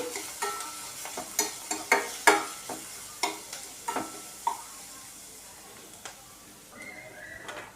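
Chili powder, salt and spices frying in a pan for a cabbage coconut curry, heard as a series of sharp spoon scrapes and stirring knocks over a soft sizzle that fades toward the end.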